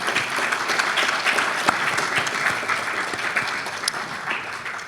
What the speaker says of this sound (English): Please give yourselves a round of applause.